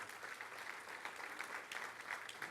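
Church congregation applauding together, a steady wash of clapping held at an even level throughout, fairly faint and without voices on top.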